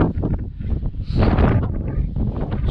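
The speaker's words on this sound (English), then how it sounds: "it's extremely windy up here" Strong wind buffeting a microphone on a North Yorkshire hilltop, a loud continuous roaring rush with gusts swelling and easing across the moment, no other sounds.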